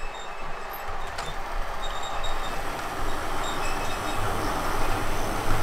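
A model railway train runs along its layout track, a steady rolling rumble that builds gradually in loudness over several seconds with no talking.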